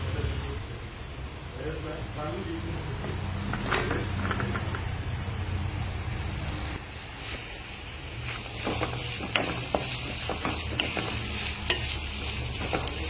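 Shallots, ginger, garlic, onion and okra sautéing in a pan, a steady loud sizzle with spoon stirring and scraping, the frying crackle growing busier midway while a voice talks over it.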